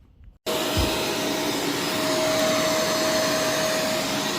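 A vacuum cleaner runs steadily on an area rug, a loud continuous motor drone with a high whine that starts abruptly after a brief quiet moment and holds through to the end.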